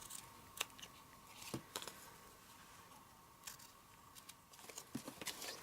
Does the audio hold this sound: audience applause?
no